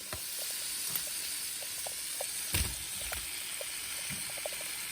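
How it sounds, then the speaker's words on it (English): Shrimp and garlic sizzle in a hot pan for a chipotle cream shrimp dish, a steady close hiss with small crackles and one louder burst of spatter partway through, with no talking. "I'm going to add my garlic. Make sure your garlic does not burn. And I'm going to add my shrimp."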